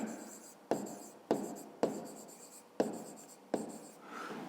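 Pen on paper writes out a math solution in five or six quick bursts of scratchy strokes, each starting with a sharp tap and trailing off, close and fairly quiet.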